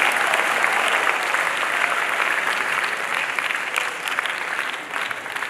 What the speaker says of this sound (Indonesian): Serta tepuk tangan untuk semua santri dari Al-Qalam 3 Kampus Da'izah.